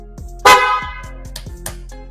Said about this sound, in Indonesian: Kita cobain aja ya salah satu dari banyaknya klakson-klakson ini.